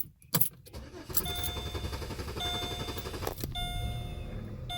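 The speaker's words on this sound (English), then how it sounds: "The car is just continuing to run and run and run and run and run, or crank." A Pontiac G6 with a failing fuel pump cranks on and on without catching, the starter churning steadily and close by, with a door-open chime pinging at intervals over it.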